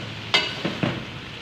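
A utensil scrapes and tosses chicken and vegetable spaghetti in a pan, making three soft, close stirring strokes over a faint sizzle.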